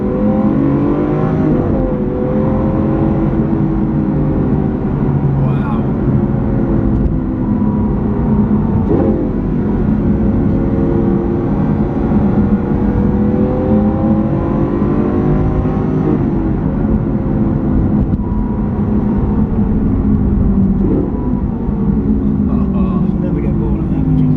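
Lamborghini with its sports exhaust on, heard from inside the cabin: a loud, continuous engine drone with repeated rising revs and gear changes while driving on the road.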